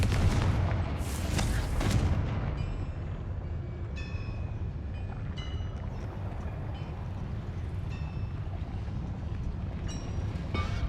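In Hogwarts Legacy, the Confringo blasting spell goes off as a series of sharp fiery cracks and bursts over dense, rumbling game noise, with a few bright magical chimes following.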